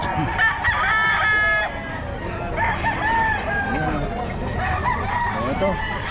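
Sweater gamefowl roosters at a Bocaue pet market crow repeatedly, several drawn-out cock-a-doodle-doo calls overlapping with clucks against a busy market background.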